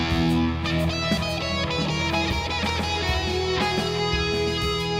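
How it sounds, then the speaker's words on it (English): An electric guitar runs up a Lydian major scale in a dense, sustained stream of notes, loud and full with a rich harmonic tone, with no speech over it. "Up the scale is a major scale, which is Lydian, and that sounds like this."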